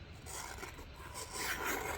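Crescent Wiss CW10T 10-inch offset professional shears glide through two layers of heavier-duty paper with a continuous close rasping slide. The sound grows slightly louder toward the end, with no talking.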